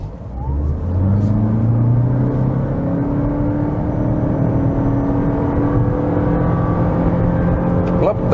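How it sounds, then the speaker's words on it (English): A 2020 Toyota C-HR facelift with the 2.0 hybrid accelerates onto a motorway on a slight downhill, its engine drone rising steadily in pitch and staying loud and close from inside the cabin. "Let's accelerate onto the motorway, although it's going a little bit downhill, but let's see what this car is capable of."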